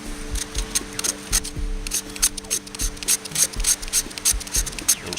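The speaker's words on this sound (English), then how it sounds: "I'm just going to scrape it on the inside here." A knife scraping the inside of an object to make fine dust for fire starting, with rhythmic rasping strokes repeating close up at a steady pace.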